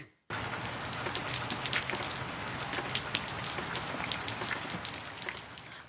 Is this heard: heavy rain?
yes